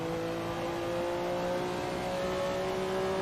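A Porsche 962 race car engine in Assetto Corsa holds a loud, steady, strained drone with rough harmonic tones, running continuously without a break.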